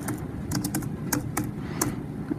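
Fingers tap out a caption on a computer keyboard, with quick close key clicks in short irregular bursts over a steady background hiss.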